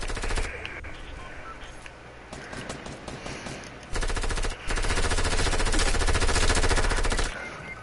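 Submachine gun fire in a video game: rapid, loud automatic bursts that grow denser and steady midway, then cut off near the end, with no talk over them.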